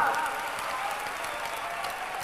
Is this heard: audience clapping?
yes